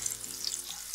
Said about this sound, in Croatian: odreske stavljamo u tavicu na ulje na ovu stranu koju smo umočili u brašno